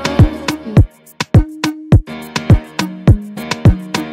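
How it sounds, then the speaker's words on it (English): Log drum sample pushed through heavy RC20-style distortion with added white noise and a large reverb tail, producing a loose syncopated pattern of punchy, pitched low hits with hissy decays, loud and alone. "we're adding a ton of reverb. So that's gonna sound like this."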